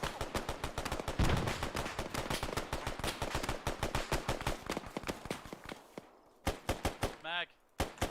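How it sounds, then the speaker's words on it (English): Rapid automatic gunfire in the military shooter Arma 3, dense overlapping bursts of shots running almost continuously, near and loud, breaking into a few separate cracks at the end. "Shots southwest."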